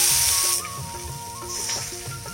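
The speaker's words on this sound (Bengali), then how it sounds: "কাজু কিশমিশ খেজুর ভালোভাবে ভেজে নেব।" Cashews, raisins and dates frying in a pan with a steady close hissing sizzle, louder at the start and briefly swelling again midway, with soft stirring clinks underneath.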